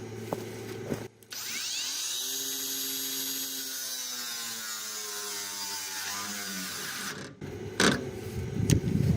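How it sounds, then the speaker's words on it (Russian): A new PATUOPRO angle grinder starts up and cuts loudly under heavy pressure, its pitch sagging as it bogs down under load before abruptly stopping; clattering follows. "Новая болгарка, рез с давлением до остановки."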